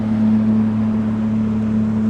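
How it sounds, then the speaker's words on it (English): A boat going by on the Wakulla River, Florida, drones steadily nearby with a low, constant hum and a deep tonal rumble, no voices over it. "Another boat going by."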